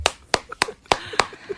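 Several sharp, distinct hand claps at a political debate, about five spaced claps in an uneven rhythm, close and crisp with faint sounds between.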